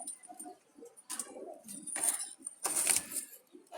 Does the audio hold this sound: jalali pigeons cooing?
yes